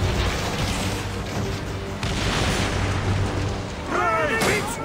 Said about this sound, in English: One signal, and fire bursts upon them.